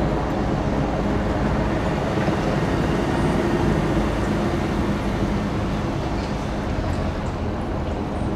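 A monorail train passing through a planned suburban community, a loud, steady, broad rumble with rail noise that holds evenly throughout and no talk over it.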